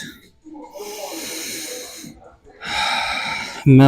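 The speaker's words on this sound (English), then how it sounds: "Hands can go a little bit more in front to really emphasize this crocodile breathing." Two long, deep breaths from a crocodile breathing exercise, heard close and clear as steady airy hisses separated by a short pause, with a voice starting just at the end.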